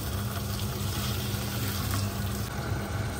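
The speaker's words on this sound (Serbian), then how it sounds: "dodat ću čašu vode, nek se krčka" Pork simmering in a pot after a glass of water is poured in, giving a steady close bubbling hiss and sizzle that runs unbroken throughout with no talking.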